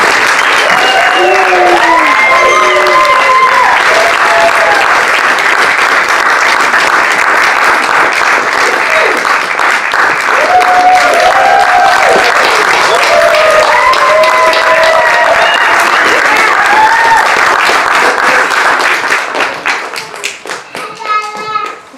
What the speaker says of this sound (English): thank you for that round of applause for these wonderful performances